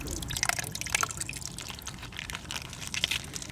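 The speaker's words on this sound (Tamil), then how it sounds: "தயிர் போடுறோம்." Thick yogurt is spooned and poured into a bowl of chicken pieces being marinated for a Muslim-style biryani, giving soft wet drips and splats, fairly faint and close, with no talking.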